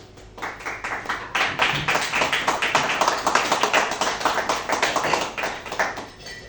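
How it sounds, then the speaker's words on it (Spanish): An audience in a small venue applauds at a book presentation. The clapping is close and rhythmic, builds quickly and holds steady at a lively level for several seconds before easing off. "Un aplauso, por favor."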